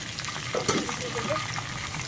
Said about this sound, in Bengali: দেখতে পাচ্ছেন আমার মাংসগুলো মোটামুটি ভাজা হয়ে গেছে